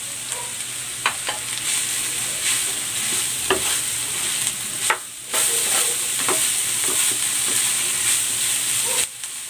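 Onion, chicken and tofu sautéing in a pan make a loud continuous sizzle and hiss, with periodic scraping strokes of a spatula and brief pauses in the stirring.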